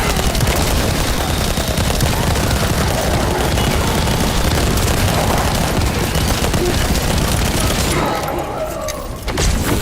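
Weapon explosions in The First Descendant video game, a dense, loud barrage of rapid gunfire and booming blasts that continues for most of the stretch before easing off near the end.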